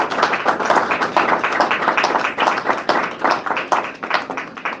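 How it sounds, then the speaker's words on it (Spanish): Congregation at a Thursday evening church service applauding together, a dense run of hand claps filling the room for several seconds without a break. "¿Le pueden dar un aplauso al Señor por lo que Él es?"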